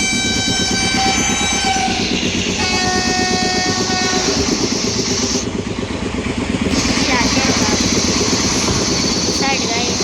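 A train pulls out of a crowded station, a loud close rumble and rattling of wagons with brief horn-like tones and constant crowd chatter around it.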